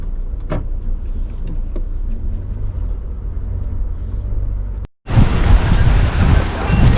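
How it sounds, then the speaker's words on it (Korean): Strong post-typhoon wind heard from inside a moving car: a muffled low rumble of driving, then a brief drop as a window lowers and loud, rushing wind gusts flood in close to the microphone. "아직도 바람이 엄청나게 붑니다"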